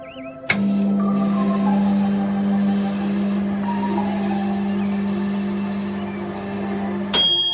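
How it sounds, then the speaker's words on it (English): A video game's microwave sound hums steadily for several seconds while heating coffee in a mug, starting and ending with sharp clicks, its low drone constant throughout. "Placing the mug into the microwave, you heat the coffee for 60 seconds."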